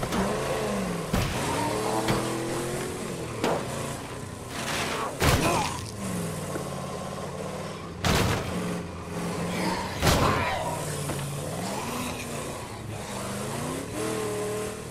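A car engine in the zombie survival game State of Decay 2 revs and accelerates in repeated surges, its pitch rising and falling, punctuated by several sharp thuds and impacts, with no talking.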